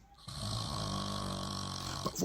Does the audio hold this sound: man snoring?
yes